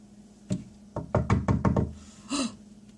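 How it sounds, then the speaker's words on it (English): A delivery courier knocking at a front door: a single rap, then a quick run of five or six firm knocks in a row, fairly close, with a short voice-like sound afterward. "Oscar, go to the door. It's FedEx"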